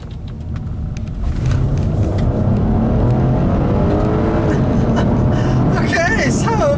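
A 2012 Honda Accord V6 coupe with a 3.5-liter V6 in sport mode accelerates on a back road, its engine rising in a steady, close rumble that builds after the first second, with voices heard over it.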